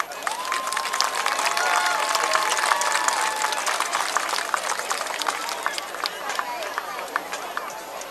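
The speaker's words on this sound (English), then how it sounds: "Please give a round of applause for your Mount Vernon Mighty Tiger Band." A stadium crowd at a Pewitt vs Mount Vernon football game claps steadily for the Mount Vernon Mighty Tiger Band, with scattered cheers mixed in. The applause holds at a fairly even level for several seconds.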